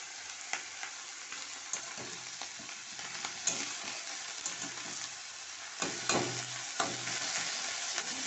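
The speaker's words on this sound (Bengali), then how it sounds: "কেটে রাখা মূলোর শাকটাকে আমি শুকনো লঙ্কা আর কালো জিরে ফোড়ন দিয়ে এখন ভাজছি" Chopped radish greens frying in a pan with dried red chilli and nigella seeds, a steady close sizzle broken by a spatula's scrapes and stirring knocks, with a heavier clatter near the six-second mark.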